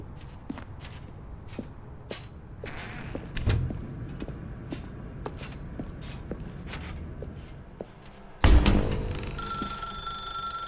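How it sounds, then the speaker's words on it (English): Telephone ringing in The Stanley Parable game, a bright ring entering near the end over soft footsteps and shuffling in a quiet room. "Now pick up the phone."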